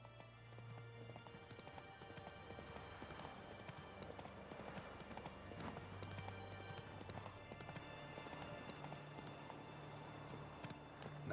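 Horse hooves clip-clopping at a steady gallop in The Witcher 3, a continuous rhythmic pounding at moderate loudness over a faint game backdrop, with a brief whinny-like tone.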